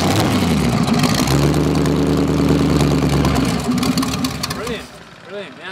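A V8-powered trike, the first licensed in Western Australia, runs at a vintage motorcycle meeting at Whiteman Park. Its loud, close, steady rumbling drone holds for several seconds, then fades and trails off near the end.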